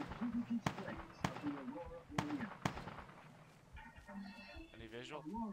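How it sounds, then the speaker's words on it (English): Several sharp gunshots crack at irregular intervals in an ARMA 2 firefight, loud and close, with people talking over and between the shots and radio-like chatter toward the end. "We're taking fire."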